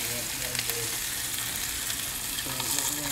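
Lamb rack searing in a hot pan, a continuous loud sizzle and crackle close by, with faint voices talking in the background.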